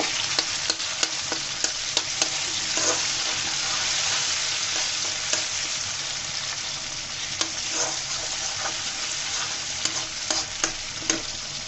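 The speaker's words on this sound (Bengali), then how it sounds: "টমেটোটা আমি ভেজে সসের মতো করে নিব" Tomato frying in a pan with cauliflower stems dish, steady sizzle with repeated clinks and scrapes of stirring, close and continuous, no voices.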